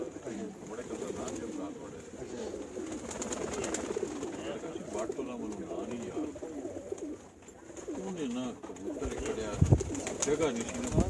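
Pigeons coo on a rooftop pigeon loft in Dogha Thal, Kharian, their low rolling calls repeating near and far while people talk over them and a steady high hiss runs underneath.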